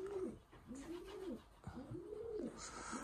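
Breeding pigeons in a loft give several soft, rolling coos one after another, close by and fairly quiet, with faint background noise.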